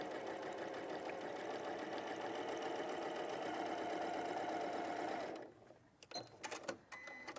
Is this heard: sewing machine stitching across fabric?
yes